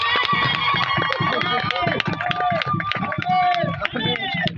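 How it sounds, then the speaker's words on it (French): A church congregation acclaims and cheers for Jesus in a dense, continuous roar of many voices, with scattered claps and shouts and no pause throughout. "Acclamation à Jésus"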